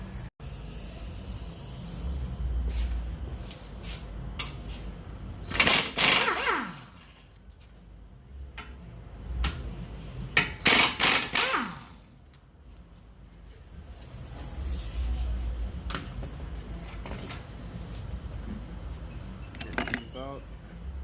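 Brake caliper bolts coming off the front of a Nissan Rogue, metallic ratchet and wrench clicks and clanks in short bursts near the wheel, with someone talking at times.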